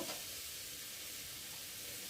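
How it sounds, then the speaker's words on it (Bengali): Spices sautéing in a pan for a vegetarian soybean curry, a steady soft sizzle and stir that holds evenly and fairly faintly throughout, with no voices. "তো মশলা দিয়েছে একটু ভালো করে কষিয়ে নেব"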